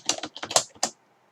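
Typing on a computer keyboard during Ubuntu server setup on an Amazon AWS Lightsail instance: a short close burst of about half a dozen crisp keystrokes, then silence.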